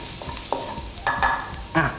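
Onions being stir-fried in a pan for tuna white-sauce spaghetti, a few distinct spatula scrapes and clinks over a low, steady sizzle, close up, with no speech.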